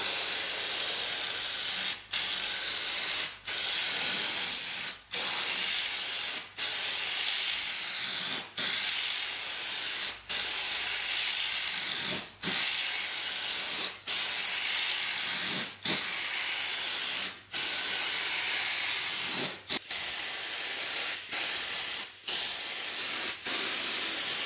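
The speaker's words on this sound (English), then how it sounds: "So now we are ready for the anti-gravel spray." Anti-gravel spray hisses onto a Saab 900 Classic fender in about sixteen sharp, steady bursts separated by brief pauses, close and loud.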